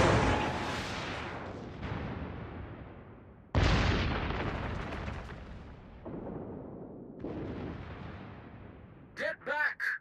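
In World of Warships, the battleship Tirpitz fires its secondary guns in a series of heavy booming blasts that roll away in long decaying rumbles, with a voice speaking briefly near the end.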